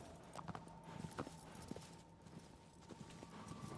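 Horse hooves clip-clop at a walking pace across green fields in the video game Shadow of the Colossus, a faint, steady rhythm of soft hoofbeats with a quiet background tone.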